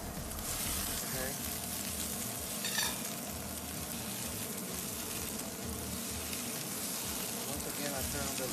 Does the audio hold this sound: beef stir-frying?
yes